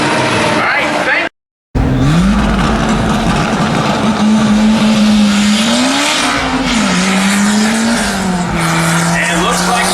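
Drag racing car at the North Carolina dragway, a loud close engine droning and revving steadily with tire squeal, briefly cutting out before roaring back on.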